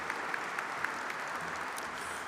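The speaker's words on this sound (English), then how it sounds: "Let's give them a round of applause" Audience applause for award recipients at a defense employer support ceremony, a continuous, even roar of many hands clapping that sounds somewhat distant and diffuse throughout.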